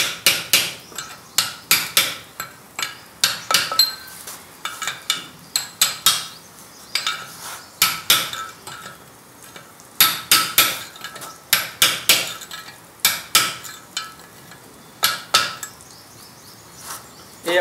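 A chisel is hammered repeatedly around a lead joint on a vertical cast iron pipe, caulking it tight. The sharp metallic strikes come close and loud in irregular bursts and rhythmic runs, with no talk.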